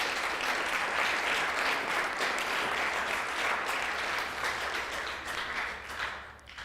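A room of attendees at a village council meeting applauds a group of EMTs, giving steady, dense clapping that holds for several seconds before thinning out at the end.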